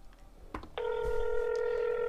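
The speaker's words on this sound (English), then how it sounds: "That's another one where I've just made a phone call. You know, I'm just hang on, waiting for them to pick up." A telephone keypad tone and then a steady ringback tone from a soundboard effect, with a short electronic beep sequence followed by a continuous, level tone that holds to the end, heard alone.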